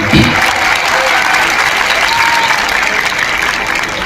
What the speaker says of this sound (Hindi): अगर बजा रहे हैं तो सभी सब मिलकर बजाइए तालियां